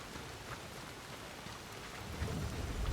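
Heavy rain in the video game Soulmask hisses continuously while a low thunder rumble builds and swells toward the end.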